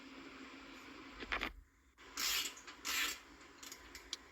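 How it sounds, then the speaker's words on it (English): Ratchet fitted with an E18 socket loosening the wheel on a BMW X5, several short bursts of rapid clicking and rasping, near and fairly loud, with a brief quiet pause. "now we're removing the tires. You're gonna need E18 socket for this"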